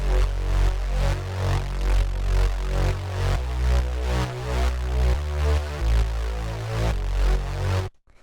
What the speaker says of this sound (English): after that we have this bass